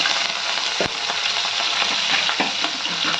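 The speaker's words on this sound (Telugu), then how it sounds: "ముందుగా కట్ చేసి పెట్టుకున్న పచ్చిమిర్చి వేసుకోవాలి" Chopped green chillies fry in hot oil in a pan, a steady close sizzle with a few clicks and scrapes of stirring across about three seconds, no voices.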